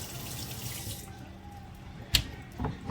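Jalapeno peppers washed under a running kitchen tap: a steady hiss of flowing water for about a second, then quieter splashing and a couple of sharp knocks and splashes as the peppers are handled, close by, with no talking.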